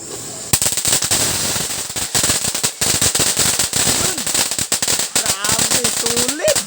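Tulips firecrackers by Tiger Fireworks going off in a rapid, loud string of close cracks and pops, dense and crackling throughout, with a voice briefly heard near the end.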